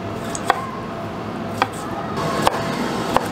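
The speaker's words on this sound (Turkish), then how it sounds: "Yine domatesimizi de küçük küçük doğrayacağız." Knife chopping tomatoes into small pieces on a board for beef tantuni, four sharp separate cuts spaced about a second apart over a soft background hiss.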